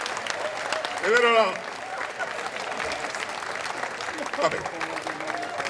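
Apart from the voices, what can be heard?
audience applause at outdoor comedy show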